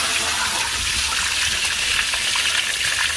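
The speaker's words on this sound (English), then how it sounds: "Yeah, water is coming." Water gushes steadily from the delivery tap of an automatic domestic solar-powered pumping system, a loud, continuous close-up rush with no talk over it.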